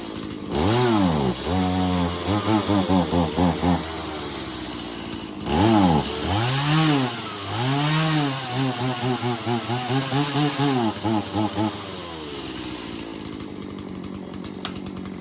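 A Stihl MS 180c chainsaw is pull-started with a string of quick tugs and sputters, then catches and revs up and down loudly and close by before dying away, with no one speaking.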